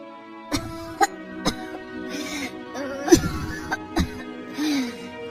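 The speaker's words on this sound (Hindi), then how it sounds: "ये कैसी खांसी है?" Repeated coughing fits from a woman in an animated Hindi cartoon story, several sharp bursts spread across the clip with voiced, strained tails over a quiet musical background.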